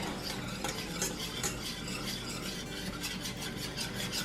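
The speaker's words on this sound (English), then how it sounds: "You just want to add a little bit at a time and stir that in" Milk being whisked into gravy in a pan, a steady rapid scraping and rubbing of the whisk with light rhythmic strokes throughout, close and fairly quiet, with no talking.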